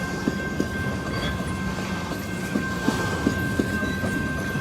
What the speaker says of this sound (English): I don't particularly care for the monotony of the train as it's passing by